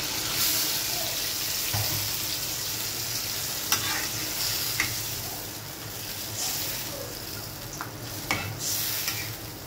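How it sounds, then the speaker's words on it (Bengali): Hot water hits a pan of frying rohu fish bhuna curry, raising a steady loud sizzle with watery hissing and occasional clinks of stirring throughout. "এবার একটু গরম পানি দিয়ে দিব"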